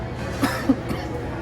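Two short, sharp coughs a moment apart, fairly close, over a low room hum.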